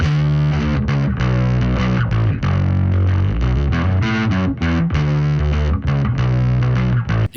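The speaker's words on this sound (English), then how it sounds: "nice thick bass tone with a generous amount of gain" A thick, heavily overdriven bass guitar, a P bass through an Ampeg-style amp with a fuzz or overdrive pedal, plays a dense, sustained riff that stays loud and gritty throughout with no voices.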